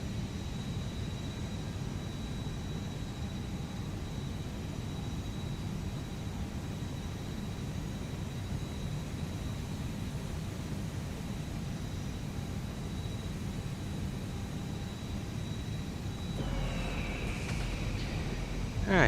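Steady, low cockpit hum and airflow drone aboard an Airbus A320neo in the ToLiss flight simulator, parked at San Francisco. A faint constant tone holds throughout, with a brief soft clatter near the end.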